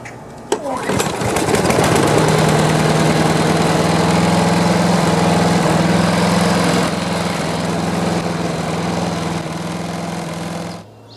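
A Briggs & Stratton lawn mower engine fires up after a carburetor rebuild and runs loud and steady for about ten seconds. It holds an even, buzzing drone throughout, then shuts off.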